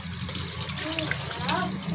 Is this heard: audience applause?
no